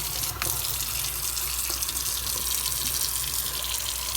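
Water runs steadily from a tap into a sink while a refrigerator is being cleaned, a constant broadband rushing hiss filling the whole stretch with no talk over it.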